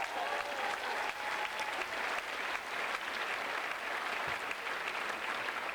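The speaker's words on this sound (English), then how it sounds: "A round of applause for these 4." An audience at a Verselandia 2023 evening event claps for four judges, a steady, fairly distant wash of applause sustained throughout with no talk over it.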